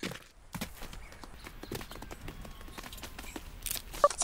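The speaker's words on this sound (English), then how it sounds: "You have a horse on the ship with a cannon on it." Horse hooves clip-clop on a ship's deck in a sandbox video game, a series of light knocking steps spread across the few seconds, fairly close and moderately loud, with no talk over them.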